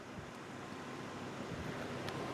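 Floodwater pours out of a roadside culvert into a well-filled ditch during spring flooding, a steady broadband rush that stays constant throughout, with some wind buffeting the microphone.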